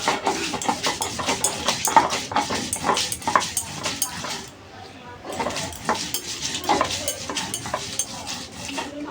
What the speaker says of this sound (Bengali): পেঁয়াজটা বেটে নেব। এবার